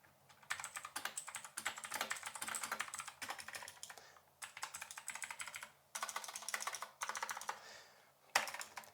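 Rapid clattering keystrokes on a Shein 60% mechanical keyboard, typed in quick bursts with short pauses, close and crisp with a slightly hollow tone.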